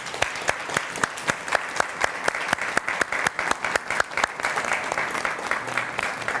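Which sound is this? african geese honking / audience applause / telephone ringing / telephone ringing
audience applause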